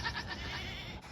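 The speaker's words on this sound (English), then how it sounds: "Daredevil goat." A goat lets out a short, fairly faint bleat, a single brief cry set against background noise.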